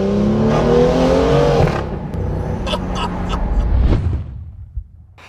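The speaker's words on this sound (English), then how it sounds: "This is the UK's first full iPE exhaust BMW" BMW M2 F87 fitted with a full iPE exhaust system revving loudly nearby, a sharp rising blip followed by a fading rumble and a few crackles trailing off.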